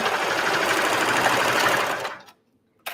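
A sewing machine runs steadily for about two seconds, stitching the side seams of a dress lining, then stops, leaving near silence before a brief final click.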